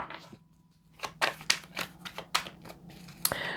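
A tarot card deck being shuffled by hand close up, a quiet run of crisp flicking riffles and soft taps in an otherwise still room, with no speech.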